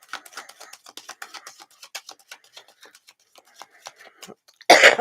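A single sharp, loud cough bursts out near the end, after a run of faint, irregular clicking ticks that fill most of the moment.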